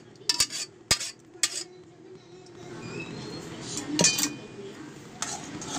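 A spoon stirs payasam in a metal pot after cooked moong dal and sago go in, with several sharp clinks of utensil on pot followed by steady scraping stirring.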